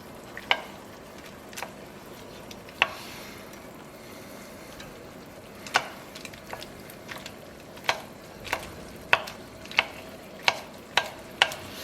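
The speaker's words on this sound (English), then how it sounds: "we're going to stir this until the sauce disappears at the bottom" Spaghetti stirred through broth in a pan, for a vegan spaghetti all'assassina from Puglia: scattered, sharp scraping clicks from the utensil over a soft, steady sizzle, with no talking.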